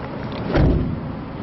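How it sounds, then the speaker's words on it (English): The door of a 2012 Toyota Coaster bus shuts with a single solid, muffled thud, close by, over a low background hum. "Nice solid door. You can hear on that door it hasn't had very much use at all."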